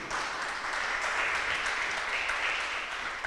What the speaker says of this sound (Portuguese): E as palmas celebram ao Senhor